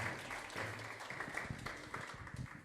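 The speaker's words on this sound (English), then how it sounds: "Let's give him a round of applause." Faint, distant crowd applause at a local talent show, a soft continuous patter of many hands throughout with no single claps standing out.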